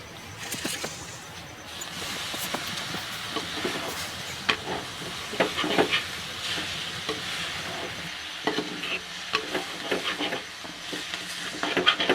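Cleaned green mussels tipped into a hot pan: a steady frying sizzle and hiss lasting throughout, broken by scraping and stirring clatter, with no talking.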